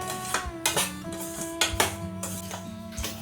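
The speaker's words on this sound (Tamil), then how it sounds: "ரவை நல்லா வறுப்படணும்" Semolina is roasted in a pan for rava idli, with a utensil stirring and knocking against the cookware in a series of clinks and scrapes at close range, with no talking.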